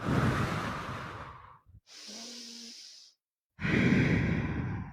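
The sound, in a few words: breathing in and out during yoga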